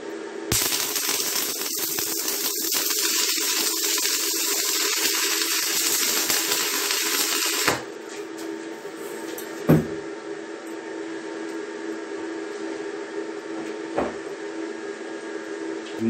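A Saints ST 175a inverter welder runs on 110 V at 140 A, stick welding 5 mm plate with a 2.5 mm electrode, giving a loud steady crackling hiss for about seven seconds, then a quieter hum with occasional clicks.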